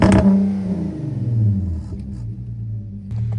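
A VW Atlas Cross Sport with an upgraded exhaust gives a deep, throaty rumble. It swells in a short rev near the start, then settles to a steady low idle, close and loud, with no talking.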